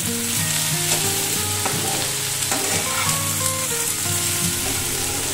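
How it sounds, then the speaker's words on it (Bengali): Tilapia fish curry being stirred in a hot pan with oil, chili powder and a little sugar, giving a steady loud sizzle with repeated scraping and clinking strokes of the spatula, no talking. "এরপরে এটাকে আমি আর একটু নাড়াচাড়া করবো"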